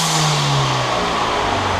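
A Ford Fiesta ST with an aftermarket blow-off valve revs hard up close, a loud rising engine roar that holds briefly and then settles, heard on its own without talk.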